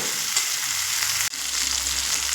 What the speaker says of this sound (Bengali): আলু আর মশলার সঙ্গে আবারও এক থেকে দু মিনিট মতো একটু কষিয়ে নেব